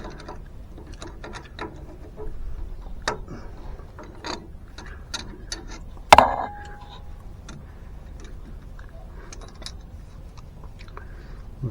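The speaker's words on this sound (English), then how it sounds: "I'm putting the Zerk fitting back in here." Small metal clicks and ratcheting taps from a grease fitting being screwed back into the suspension of a 2013 Jeep Wrangler Rubicon, with one sharper clack partway through, close and fairly quiet, no talking.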